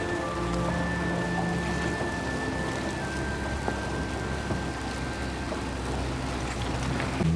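Steady rain patters on a Jeep Gladiator during slippery, foggy night off-roading in New York, a dense continuous wash of drops with low vehicle rumble underneath and faint tonal whines throughout.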